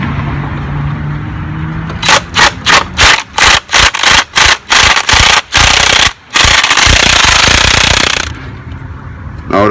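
A socket wrench ratchets against the oil filter housing on a Mercedes E63 AMG, a loud close series of about ten rapid clicking bursts over a steady, loud mechanical background hum.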